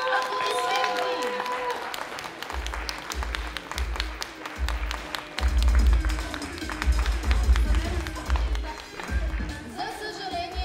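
Audience applause at a cosplay stage contest during a game summit, greeting the second-place Monster Hunter cosplayer; steady clapping and crowd noise with a pulsing low thump of music underneath and some voices.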